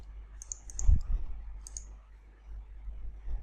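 A computer mouse right-click during a keylogger demonstration on a PC, two or three faint, crisp clicks close together near the start and another pair a moment later, over a low steady hum with no speech.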